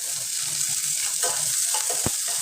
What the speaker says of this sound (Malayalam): അതിനകത്തോട്ട് നമ്മളെടുത്ത് വെച്ചിരുന്ന ഉള്ളി, ഒരു വറ്റൽമുളക്, ഇനി നമുക്കതൊന്ന് ഇളക്കി കൊടുക്കാം.